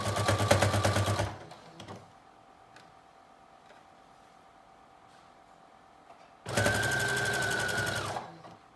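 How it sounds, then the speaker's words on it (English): A sewing machine runs a narrow stretch stitch around a knit dress sleeve in two loud bursts, one at the start and one near the end, with a low steady hum in the pause between. "So I'm doing a stretch stitch here, a very narrow one."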